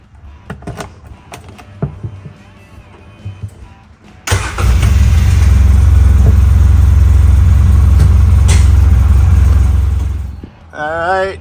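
A Polaris Ranger UTV in a yard: after a few quiet knocks, its engine cranks and catches, then runs loud and close for several seconds at a steady drone before cutting out.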